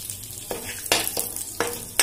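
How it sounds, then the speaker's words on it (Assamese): Panch phoron spices splutter in hot oil in a pan for an Assamese-style fish curry with greens, a steady sizzle broken by sharp, loud pops about every half second, close by with no talking. "আৰু সেই পেনখনতে মই একেখিনি তেলতে মই পাঁচফোৰণ দি দিলোঁ। পাঁচফোৰণখিনি অলপ ফুটিব দিব লাগিব"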